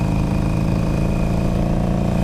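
A Harley Davidson 883 Sportster motorcycle engine, a loud, close, continuous rumble with a steady pulsing idle rhythm and no talking over it.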